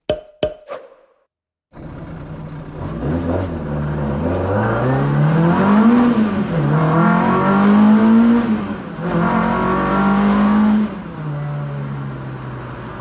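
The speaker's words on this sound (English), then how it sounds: "I'm not going to know until I take it for a test drive." A Mk1 Escort, worn from daily use and leaking oil, starts up and accelerates on a test drive, its engine revving up and down through rising and falling pitch with a brief lift off mid-run, loud and close.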